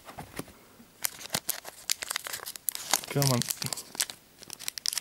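Plastic Pokémon card blister packs crinkle and tear in short crackling bursts while being struggled open, with a voice talking between and over the rustling.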